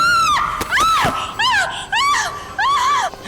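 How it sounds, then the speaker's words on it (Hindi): A woman in a TV crime drama scene screams in a series of loud, piercing, wavering cries, several bursts in a row with short gaps, close and alone. "क्यों चिल्ला रही हो?"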